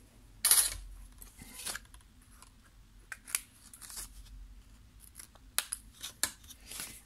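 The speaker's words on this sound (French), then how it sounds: "Et là, je coupe en biais." Scissors cutting on the bias through a folded fabric pouch: a handful of crisp, close snips and light clicks, spaced irregularly in a quiet room with no voices.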